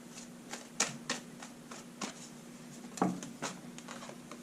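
Tarot cards drawn and handled on a table: a series of soft, irregular card slaps, slides and taps, close and quiet, a few sharper flicks among lighter shuffling touches.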